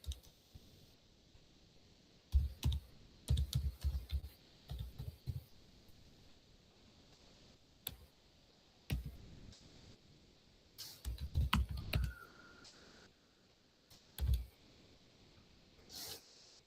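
Someone types a name and password on a computer keyboard, soft and close. Scattered key clicks come in short bursts and irregular taps separated by brief pauses, fairly quiet throughout, with no speech.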